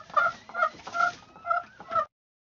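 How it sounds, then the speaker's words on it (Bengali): A chicken clucks five times in a quick, evenly spaced series, close and clear, then stops. "মুরগি,"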